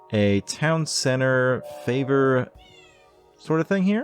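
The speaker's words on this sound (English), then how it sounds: "Apologies for my cat meowing in the background." Pet cat meows several times close to the microphone, short tonal cries mixed with someone talking.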